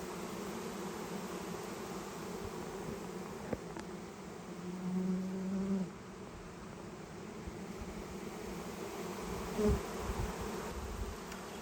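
Honey bee swarm buzzing steadily and densely, a continuous close drone with slight swells in loudness and no talking.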